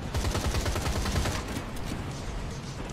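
Rapid bursts of gunfire from the VR shooter Atomic Heart (Soviet Lunapark VR), dense, loud, continuous automatic shots firing throughout without pauses.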